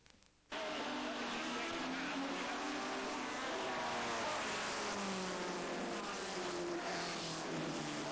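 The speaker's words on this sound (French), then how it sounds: "Cette magnifique course verra la victoire de 3 Aston DB4, celle de Michael Salmon, David Haynes et Ia" Historic race cars, Aston Martin DB4s among them, racing at Brands Hatch in 1986, a sudden loud, sustained engine roar that holds steady, as if cars are passing close by.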